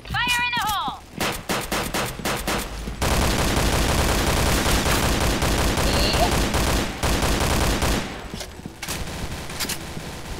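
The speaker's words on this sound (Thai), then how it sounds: "โอ้โหเปิดฉากยิงมาแล้วเปิดฉากยิงกันแล้ว" Sustained bursts of gunfire ring out in a bomb-planting game, dense rapid shots running loud and continuous for several seconds after a short opening, with excited voices and other game sounds mixed in.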